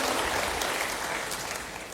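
A church congregation applauds in a soft, even wash of clapping that is distant and faint and tapers slightly as it goes on.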